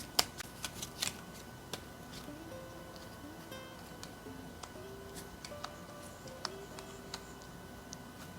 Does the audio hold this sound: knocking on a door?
no